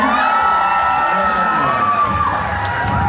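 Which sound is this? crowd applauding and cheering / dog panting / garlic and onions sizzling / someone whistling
crowd applauding and cheering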